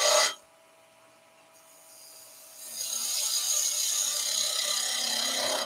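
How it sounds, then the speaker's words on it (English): A woodturning tool slices the end grain of wood spinning on a lathe: a short rasping bite at the start, a quiet pause, then a steady, loud hissing cut that continues to the end. "Slice the end grain so I get a really good finish."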